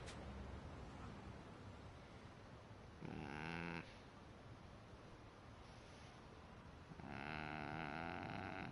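Video game snoring from Like A Dragon Infinite Wealth, heard as two drawn-out rasping, buzzy snores about four seconds apart over a constant noisy background hiss.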